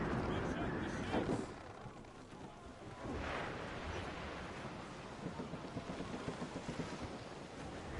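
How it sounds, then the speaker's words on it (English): Strong sea wind in Assassin's Creed: Rogue, a continuous rushing roar with surging gusts and wave wash, a low thump early on, and voices speaking over the gale. "Wind's getting vicious."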